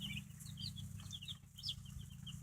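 Fifty-two young chicks in a brooder peep softly and continuously, with high, overlapping chirps over a low background hum.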